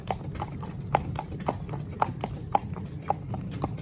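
Fell pony's hooves clip-clopping on a hard surface in a regular walking rhythm, crisp and fairly close, over a low background rumble.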